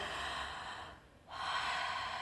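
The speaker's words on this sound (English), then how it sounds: "So I did that breathing technique. Again, it's the integrative breath." Deep integrative breathing that fills the chest and lower belly, heard as one long, close, breathy airflow that eases off briefly midway, then swells back strongly.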